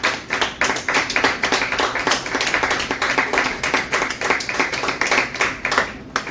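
An audience at a cabaret evening claps for performer France Bonneau, a dense run of rhythmic hand claps that pulses steadily from start to finish with no voices on top.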